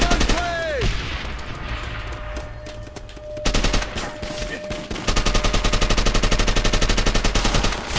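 Gunfire in a Treyarch shooter game comes as bursts of rapid machine-gun fire, loud and close, with a short lull in the middle and then a long sustained stream of shots.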